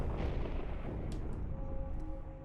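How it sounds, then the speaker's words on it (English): Gunfire in the WWI flight game Rise of Flight, a dense burst of rapid machine-gun shots under a droning biplane engine, fading slightly toward the end. "Again, with the guns. Who are they shooting at?"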